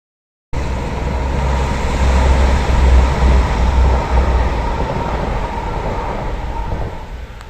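Loud, steady rumble of a train in motion on the line near Dawlish in west England, a continuous rolling roar with a low drone that swells slightly in the middle, heard from on board.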